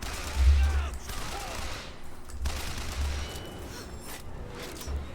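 Volley gunner gunfire in the Clash in the Clouds video game: bursts of rapid shots and booms, moderately loud with a steady background din.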